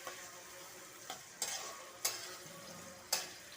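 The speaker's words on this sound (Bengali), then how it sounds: "দারচিনি এলাচি দিয়ে দিলাম। এবার একটু নাড়াচাড়া করি।" Cinnamon and cardamom frying in oil in a pan while being stirred, a soft sizzle broken by a few sharp scraping clicks of the spoon against the pan.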